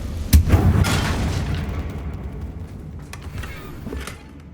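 A Confringo blasting spell explosion in the video game Hogwarts Legacy, a deep booming blast up close that rolls off into a long low rumble, with a smaller thud near the end.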